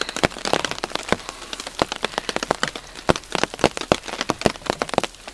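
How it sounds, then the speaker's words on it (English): Rain pattering onto a camping tarp outdoors, the tarp being cotton waterproofed with beeswax, with irregular close drops tapping sharply and steadily throughout with no talking. "It's starting to rain a little bit more."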